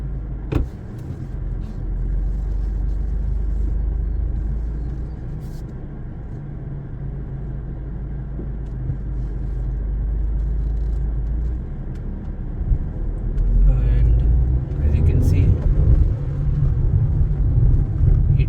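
A 2024 Tata Tiago facelift hatchback accelerates hard, its engine droning steadily under low road rumble from inside the cabin, rising a little toward the end with a few rattles.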